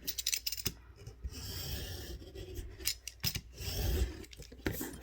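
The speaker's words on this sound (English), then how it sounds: "And then I can cut them to size to fit the picture." Scissors snipping through paper for craft booklet tabs, a series of close rasping cuts in uneven bursts with short pauses between strokes.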